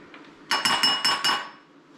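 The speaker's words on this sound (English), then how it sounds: "Sorry for making all the racket, but we got to get the seeds off the spoon." A metal spoon clinks sharply several times in quick succession while scooping out squash seeds, bright close-up taps ringing briefly then fading, no talking.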